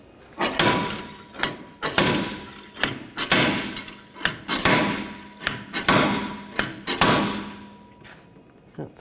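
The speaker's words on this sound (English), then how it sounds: "Now I'm going to use a slide hammer to separate the hub." Repeated heavy metallic bangs from a slide hammer working to free the rear wheel hub of a 2013-2022 Buick Encore, a rapid irregular series of loud close impacts with clanking slides between blows, tapering off near the end.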